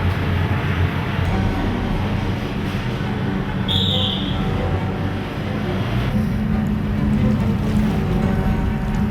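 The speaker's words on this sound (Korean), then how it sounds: "이제 막 동이 트기 시작하는 어두운 바다에는 디젤 엔진의 굉음만이 들릴 뿐이다." Diesel engines of amphibious assault vehicles drive across a dark sea at dawn, making a loud, steady low roar with water wash that holds throughout, with no voices.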